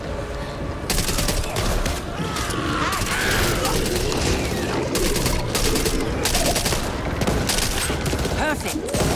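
Dense, continuous gunfire from a zombie-shooter match in Back 4 Blood, with rapid bursts and overlapping shots that keep up loudly across the whole stretch, and voices calling out underneath.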